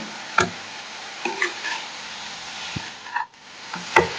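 Chopped meat frying in a pan with two bay leaves, for a chicken momo and soup dish, gives a quiet steady sizzle with a few sharp clinks and stirring scrapes of a utensil against the pan.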